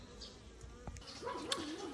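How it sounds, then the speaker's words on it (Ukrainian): Honey bees from a small swarm housed in a mini hive of two frames fly around it, a faint steady buzz close by with a wavering drone rising toward the end. "Бджолка почала облітуватись."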